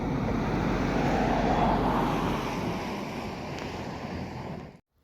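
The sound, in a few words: brisk current of the River Wye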